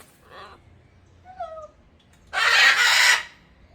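A bird gives a few short, sharp calls, then lets out a loud, harsh squawk lasting about a second, at Wild Florida.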